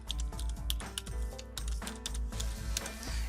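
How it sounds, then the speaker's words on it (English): Steady run of quick keystrokes on a computer keyboard, close and continuous clicking with slight variation in rhythm and no voices. "this one I'm going to type out in camel case."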